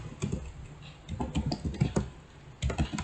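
Typing on a computer keyboard makes quick, irregular soft clacks in close bursts over a faint steady background hiss.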